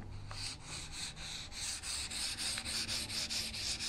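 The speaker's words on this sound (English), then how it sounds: "is using some 1000 grit sandpaper, and I'm just going to go over everything real quick, just to not pushing hard, just kind of knocking off all the little bumps" Hand sanding a wood hall table's finish with 1000 grit sandpaper, a steady close rhythmic rubbing hiss in quick back-and-forth strokes, light pressure, no voices.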